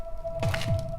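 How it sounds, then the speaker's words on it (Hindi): Two deep, soft thumps of a heartbeat in quick succession over a steady low hum. "वानी के दिल की धड़कनें भी तेज होती जा रही थी"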